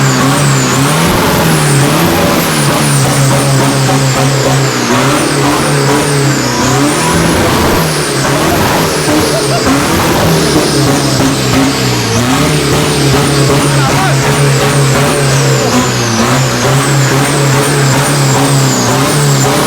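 A heavy truck roars past loudly and continuously, its engine droning and rising while hissing air-brake and turbo bursts sound repeatedly over it, with no talk.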